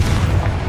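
A Confringo blasting spell explodes in the video game Hogwarts Legacy, a heavy, close, low-pitched boom that rumbles for under a second.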